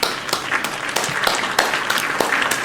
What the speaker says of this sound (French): Ah, faut juste applaudir.